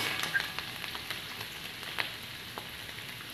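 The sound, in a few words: steamed freshwater snails frying in pan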